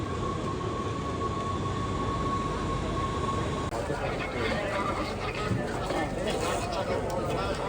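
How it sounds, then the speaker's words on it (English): A train rumbles past near the Zandvoort circuit during the Dutch Grand Prix weekend, a steady moderate-distance rolling sound with a brief high whine early on and murmuring voices in the background. "I think I see the train."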